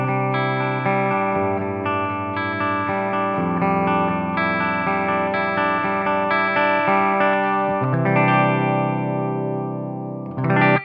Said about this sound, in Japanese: シルクドライブにつながって、で、アウトからですね、マーシャルの JCM2000 のリターンに入ってます。